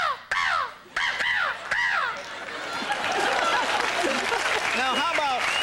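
A man imitates a crow's caw with a few loud, harsh, arching calls in the first seconds, followed by a crowd laughing and applauding for the rest of the clip.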